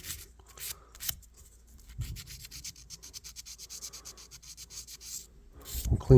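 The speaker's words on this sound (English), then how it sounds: "again, just a light sanding on them." Rapid, light sanding strokes on a Kent cattle knife blade rasp back and forth in a quick even rhythm, close up and fairly quiet, ending with a brief soft thump.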